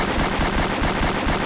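Rapid automatic gunfire in the Roblox game Liberty County, a loud continuous burst of shots filling the moment with no voices.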